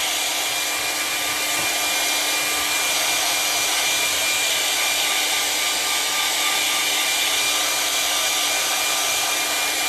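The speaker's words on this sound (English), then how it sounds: "it wants to zoom in on my hair blower. I just gotta dry there." A hair dryer blowing on wet paint, a loud, steady broadband whoosh held evenly throughout, close up and uninterrupted, with no voices.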